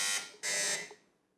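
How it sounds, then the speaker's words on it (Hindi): Electronic quiz-show buzzer sounding during a children's naat recitation competition, two loud sustained tones separated by a brief gap, with a short faint echo trailing off afterward and no talk. "बजर का बटन चेक करवाइए।"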